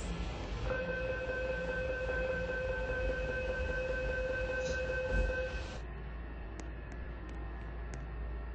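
A metro train in a Roblox game hums and rumbles at a Sydney metro station platform, with steady electronic tones ringing over it before the sound cuts to a quieter drone.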